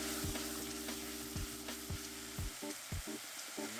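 Diced tomato and jarred roasted red peppers go into a hot pan and set off a steady sizzle, with repeated low thumps and a sustained tonal hum beneath.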